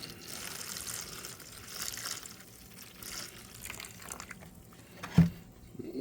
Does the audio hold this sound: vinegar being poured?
yes